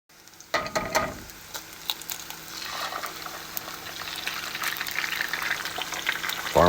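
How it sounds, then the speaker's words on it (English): Chopped spring onions (scallions) hit a hot pot with a sudden sizzle that settles into a steady, rising frying hiss, with light stirring clicks and a brief clatter near the end. "spring onions, scallions, let's get them in the pot. Get them cooking down."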